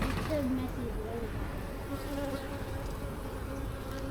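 Honey bees buzz steadily in an open hive that holds brood and plenty of pollen. The hum is close, continuous and even, with a few brief higher whines of individual bees passing near.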